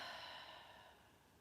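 A soft, faint breath is let out slowly through the nose or mouth during yoga relaxation in Shavasana, one quiet exhale fading away.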